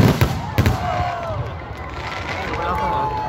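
Fireworks are shot off at an outdoor display in Choisy-au-Bac, with a couple of sharp pops up front followed by whistling, crackling bursts and crowd noise, while people talk nearby.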